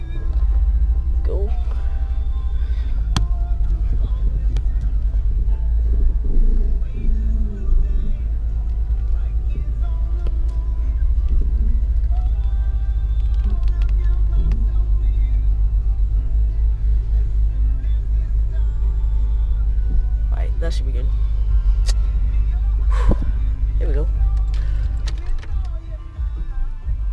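Steady low engine rumble from mom's car as it is put in drive and pulled away, a continuous loud hum with faint clicks and creaks over it throughout.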